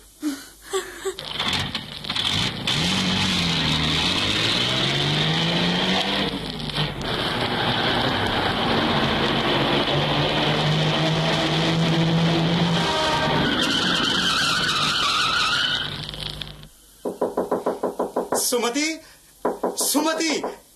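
A car pulls up in a radio-drama scene, its engine loud and steady for several seconds with a long tire skid before it stops. Brief knocks follow, with voices speaking around it.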